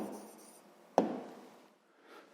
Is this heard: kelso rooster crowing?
no